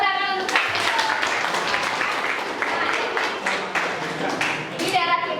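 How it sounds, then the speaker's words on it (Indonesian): A class of children clapping in a classroom teaching session on traditional dance, a steady burst of hand claps with voices and chatter mixed in underneath. "Iya, tepuk tangan untuk"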